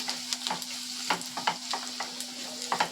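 Turmeric and chili powder being stirred in a hot pan, soft sizzling under a steady low hum with quick spatula scrapes and taps in a loose rhythm, quiet and near, no one speaking.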